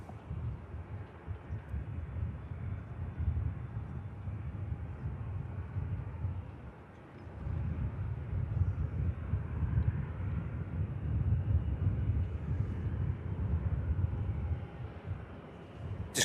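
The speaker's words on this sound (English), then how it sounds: "it's going to be nice to see this 330 though, roaring out" An Airbus A330 departing Manchester Airport gives a steady, broad low engine roar that swells after a brief dip midway, heard from a distance outdoors with wind, alone without talk.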